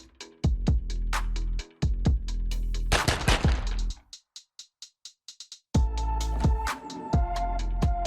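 Gunshots in an animated film: loud single shots and short bursts ring out, then a run of quieter evenly spaced pops, then renewed heavy firing with a sustained tone underneath; no talking.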